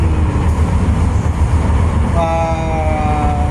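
Loud, steady rumble and clatter of a moving train leaving PITX Station in Manila, with a rising whine of the motors near the end.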